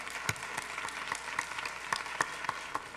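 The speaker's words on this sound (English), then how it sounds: "Let's give her a round of applause." A small gathering gives a soft, scattered round of applause, individual claps distinct and fairly quiet, a few sharper hand strikes standing out over a light, steady patter.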